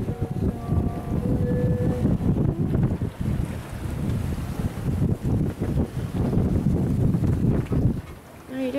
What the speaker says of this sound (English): after the shipping channel is when we turned off the engine completely and went full sail.